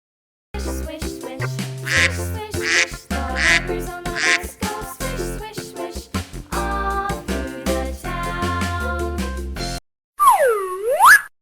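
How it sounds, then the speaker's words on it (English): Duck quacking over a playful musical backing in a children's farm-animal sequence: a run of bright, nasal, rhythmic quacks, loud and close, ending with a short springy cartoon boing. "Duck."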